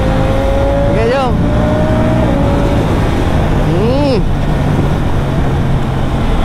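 KTM 890R and BMW S1000XR motorcycles riding together, a loud steady engine drone with two rising-and-falling rev sweeps as gears are worked, under constant wind rush.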